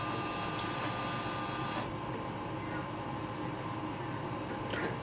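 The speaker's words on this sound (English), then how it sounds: "you will see the feeder tray will start to work" Canon Pixma TR4527 printer scanning pages through its feeder tray, a steady mechanical whir and hum with a faint shift partway through, continuous and fairly quiet.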